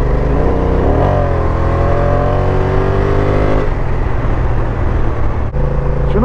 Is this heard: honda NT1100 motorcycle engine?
yes